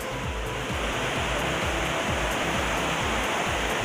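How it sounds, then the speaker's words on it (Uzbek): Water tumbling down a mountainside at the Sangardak waterfall, a steady, dense roar of rushing water that fills the whole scene without a break, close and fairly loud, with no voices over it. "Mana qarang qanday Xudoning amri bilan suv oqyapti tog'dan."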